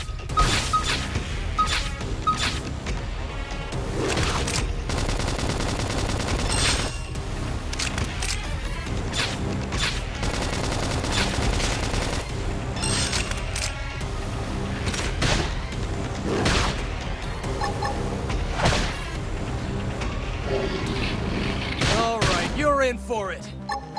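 A Xenoblade Chronicles X battle, with gunfire bursts and impacts scattered across a busy mix of combat effects, voices and music, loud and dense throughout.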